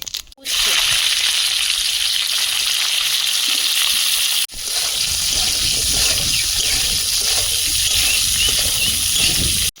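Dried red chilli and panch phoron spices fry in hot oil with a loud, continuous crackling sizzle that briefly cuts out and then resumes just as strongly.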